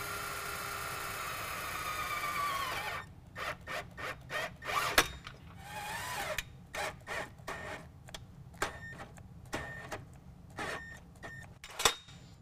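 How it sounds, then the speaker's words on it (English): Self-tapping screws being driven into the rail of a BAK Vortrak tonneau cover on a 2019 Dodge Ram 1500, a rising power-tool whine followed by a run of short, irregular ticking bursts, close and fairly quiet. "I'm going to go ahead and screw that in place with the provided self-tapping screws."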